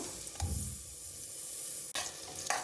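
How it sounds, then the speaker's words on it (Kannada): Long-cut sliced onion frying in oil for a rice dish, a steady close sizzle with a few sharp clacks of a spoon stirring against the pan, no voices. "ಈರುಳ್ಳಿನ 1 ನಿಮಿಷ ಫ್ರೈ ಮಾಡ್ಕೊಳ್ಳೋಣ."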